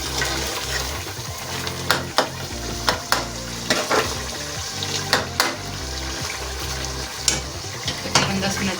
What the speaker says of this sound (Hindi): तेज आंच पे बनानी है फ्राई